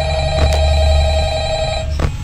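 Telephone ringing steadily in the foreground, a sustained electronic ring tone with two brief knock-like bursts, and no voices in the clip.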